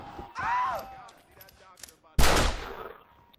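Revolver gunfire from the Red Dead Redemption video game, with a broad blast at the midpoint and a louder, sharper report near the end that rings out briefly. A faint voice sits underneath.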